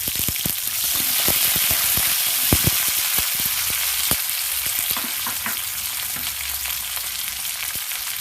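Green chillies and curry leaves fry in hot oil in a pan, giving a loud, continuous crackling sizzle with frequent sharp pops and spatters from start to finish, with no talking.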